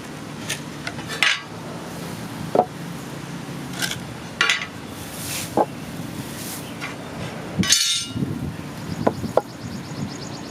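Scattered wooden knocks and clunks of construction lumber boards being shifted and set down, with brief scraping in between, close by and fairly quiet, no talking.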